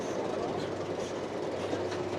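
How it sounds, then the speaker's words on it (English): A roller coaster runs past near a Pacific Ocean beach in the Los Angeles area, giving a steady, loud rumbling clatter of wheels on track that fills the whole moment without any talking. "There's the coaster"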